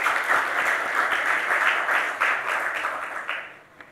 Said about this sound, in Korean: 박수를 해드리겠습니다